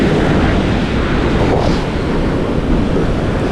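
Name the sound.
strong sea waves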